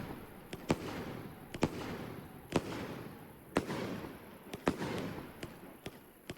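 Firework cake in the Fireworks Mania video game launching and bursting, with a steady crackling rumble punctuated by about eight sharp, loud bangs at irregular intervals, no talking.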